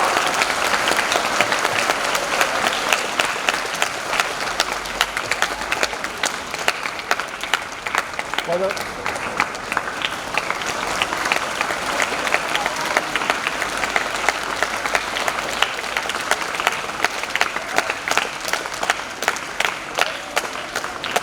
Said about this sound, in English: please give them a huge round of applause to sir